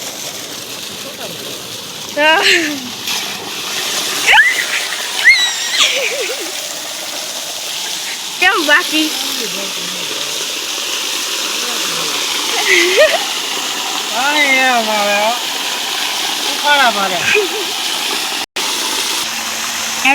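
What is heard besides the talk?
water gushing from well pump pipe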